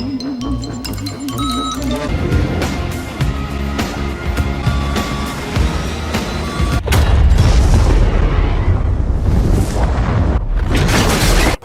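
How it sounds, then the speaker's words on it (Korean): Loud cinematic explosion effect from an action film, a booming blast over a busy music and effects mix that swells into a sustained roaring rumble through the second half. "그냥 폭탄이 밑에서 터진 겁니까?"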